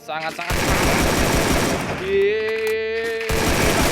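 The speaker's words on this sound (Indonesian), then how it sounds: "Ada tembakan di sini." Gunfire in a battle royale video game, a dense continuous burst of rapid shots with a tonal whine and other game effects partway through, loud and close throughout.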